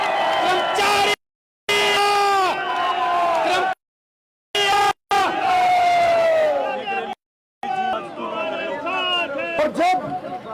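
A crowd at a political rally in Haryana over pension demands shouts, whoops and cheers loudly, with strained raised voices and a few abrupt silent breaks between bursts.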